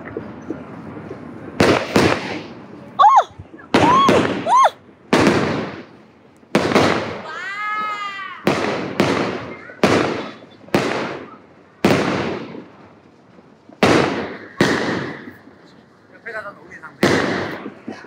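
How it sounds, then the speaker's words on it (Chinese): Fireworks burst repeatedly outdoors at night, a series of sharp loud explosions spaced every second or so, some with whistling crackle, while a person talks between blasts. "好看的烟花只是一瞬间， 一瞬即逝。"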